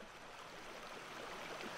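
Steady broadband rush of the Huatulco River flowing over stone in a forested setting, a continuous close wash of water at even loudness with no voices.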